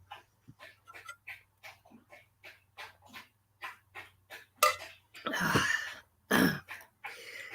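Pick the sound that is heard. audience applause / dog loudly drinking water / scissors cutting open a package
dog loudly drinking water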